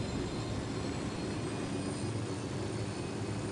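Steady broadband engine drone of a deployed surveillance drone in a PS4 video game, a continuous close whir with faint high tonal whine, holding even for several seconds with no talk.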